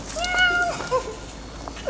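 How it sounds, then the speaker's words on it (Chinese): A house cat meows during a birthday celebration, a few short rising and falling calls close by, with laughter and people talking around it. "喵喵喵而已"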